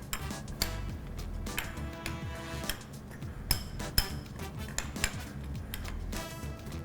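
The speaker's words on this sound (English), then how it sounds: "I'm gonna stir it." A spoon clinks and scrapes around a small bowl while stirring a dressing of citrus zest, red pepper and Maldon salt, with irregular sharp taps and chimes over a quiet kitchen background.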